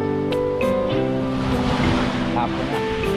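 Sea waves wash continuously onto a beach under steady wind, a broad rushing roar that runs the whole time while a person talks over it.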